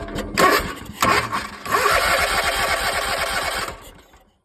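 A zero turn mower engine cranks but fails to start, with a fault at the carburetor fuel bowl: a few short starter bursts lead into a longer, rattling cranking run that stops abruptly, close and fairly loud.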